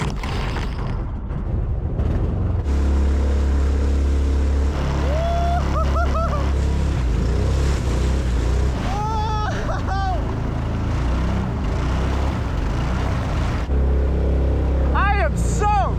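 A jet-powered Mokai kayak runs through class 3 whitewater in Alaska, its engine droning steadily under roaring, splashing rapids, with occasional rising whine from revving and a voice speaking briefly over the noise.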